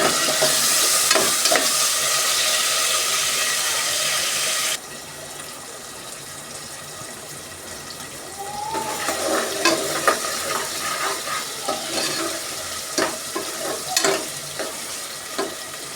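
Ginger-garlic paste and tomato frying in a pan for egg rice give a steady loud sizzle, dropping quieter midway, then return with scraping stirs and clinks of a utensil against the pan.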